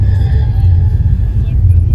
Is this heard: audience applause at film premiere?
no